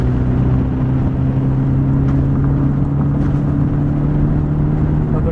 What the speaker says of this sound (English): Usually between second and third gear you get the most throatiness out of